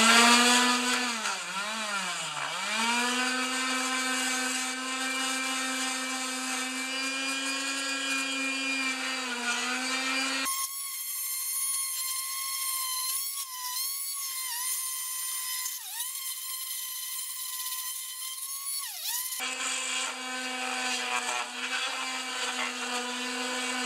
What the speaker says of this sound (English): Let's just give this a sand and see how it works.